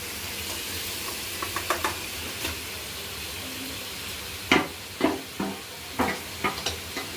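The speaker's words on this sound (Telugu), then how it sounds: "ఇక్కడైతే ఉడుకుతుంది. దీంట్లోకి అయితే ఇలా బిర్యానీకి మ్యారినేట్ చేసుకున్న లెగ్ పీస్ అయితే" Marinated chicken leg pieces dropped into a simmering biryani pot, a low steady bubbling hiss broken by several close knocks and thuds of pieces landing and a utensil striking the pot.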